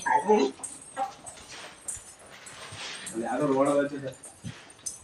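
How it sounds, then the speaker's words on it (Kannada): A dog whimpers and yips faintly in the background while people chat nearby, with short bursts of voices over the whining. "ಯಾವ ನಾಯಿ ಬಂದೈತೆ"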